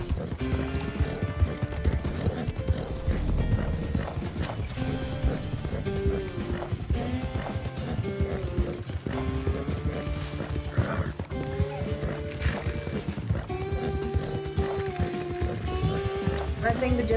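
In the Western video game Red Dead Online, a gypsy cob horse clip-clops steadily at a brisk pace under background music, and a voice talks over it throughout.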